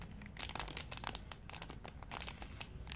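A sticker is peeled off a keyring box in a quick series of close, dry crinkling and tearing scratches, quiet and without talk.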